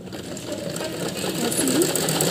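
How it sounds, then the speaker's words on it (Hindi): A sewing machine runs a steady, close stitching whir while top-stitching the lining of a smocked frock, with a voice talking faintly over it. "अब इसमें हम टॉप स्टिच सिलाई लगा देंगे अस्तर पे"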